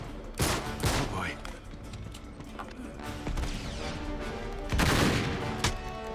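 Gunfire in Uncharted 3: Drake's Deception, several sharp blasts including a shotgun, spaced irregularly over a game soundtrack and effects, loud and close.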